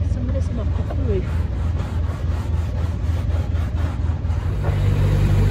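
A narrowboat engine runs steadily with a low, continuous rumble and chug close by, holding even throughout while the boat is out on the canal, with no pauses or changes in pace.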